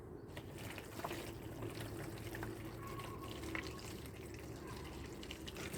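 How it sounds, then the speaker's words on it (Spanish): Water poured into a cork tray holding seed cells, a steady close trickle and splash running for the whole stretch, fairly quiet. "lo que vamos a hacer es ponerle agua."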